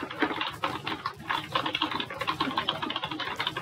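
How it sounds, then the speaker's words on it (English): Rapid, continuous clatter of keys on a computer keyboard, close and steady with dense irregular keystrokes and no speech. "I don't even know I'm typing."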